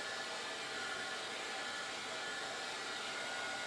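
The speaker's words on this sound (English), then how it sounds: "that's why I'm turning it over and heating it from the other side again" A handheld heat tool dries a water-spritzed, tea-bag-folded paper craft card; a steady, loud, continuous whirring blast of air runs throughout without pause, with no talking.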